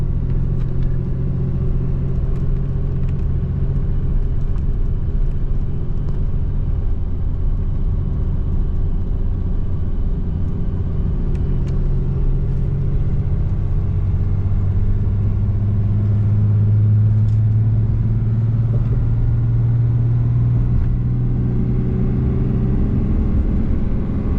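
Heavy-duty pickup truck cruising eastbound on a four-lane highway, steady low engine drone and road rumble filling the cabin, with a slight rise in engine pitch as it picks up speed; no talking.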